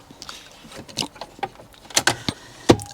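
A car's glove box is shut in an interior fitted with a custom steering wheel: a string of small plastic clicks and knocks builds to one firm, close clunk near the end.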